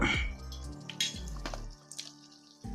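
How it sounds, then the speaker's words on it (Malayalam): A spoon stirs lime soda with sugar and salt in a glass, ringing in a few clear clinks and taps over light liquid swishing, close up and fairly quiet, with no speech. "അല്പം ഉപ്പ് നല്ലതായിട്ടൊന്ന് ഇളക്കി കൊടുക്കുക"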